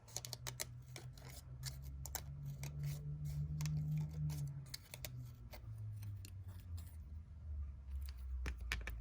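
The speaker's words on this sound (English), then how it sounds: "we're going to individually cut our little slits" Scissors snipping individual slits between the petals of a supersized craft flower: a quick run of crisp, close clicks and snips in an irregular rhythm, fairly quiet with no talking.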